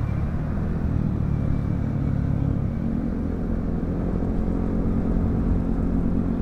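A motorcycle rides along Governor's Drive on the road toward Tagaytay, its engine a steady low rumble heard from inside a moving vehicle, constant and moderately loud throughout with no talk.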